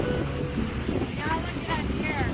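A boat under sail, out on open water heading into the sun, with steady wind and water noise rumbling throughout and faint voices in the background.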